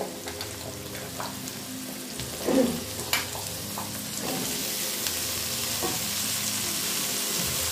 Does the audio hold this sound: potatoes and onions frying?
yes